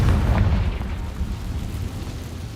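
A fiery Confringo spell blast erupts in Hogwarts Legacy, a loud low rumbling boom that rolls on steadily and slowly fades, with no voices over it.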